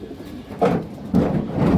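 A Mushaldom female pigeon coos in two soft, low bursts, close by, with no talking.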